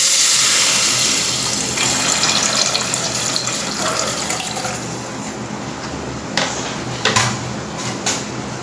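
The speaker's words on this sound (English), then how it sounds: "Now we'll add the coconut milk." Coconut milk poured into a pan of sautéed onion and tomato gives a steady, close liquid pour with a watery, faucet-like rush that thins toward the end and finishes with a few soft clinks.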